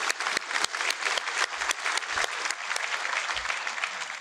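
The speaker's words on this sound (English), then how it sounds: "I heard a clap." Applause at an annual awards breakfast ceremony: a scattered room of people clapping, with sharp individual claps standing out over a softer, continuous patter, moderately close and steady throughout.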